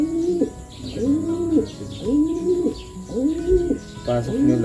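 A pigeon coos repeatedly in a steady, rolling rhythm, close by, with a few soft chirps toward the end.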